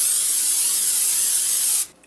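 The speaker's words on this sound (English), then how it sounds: "First, spray our pan." Cooking spray sprayed onto a casserole pan in a single continuous, close, bright hiss lasting almost two seconds before cutting off abruptly.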